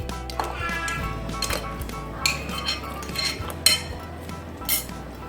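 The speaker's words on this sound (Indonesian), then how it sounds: "Aduk seperti ini." A utensil stirs carrots into beef rib soup in a pot, giving repeated clinks and scrapes against the metal over a steady background hum.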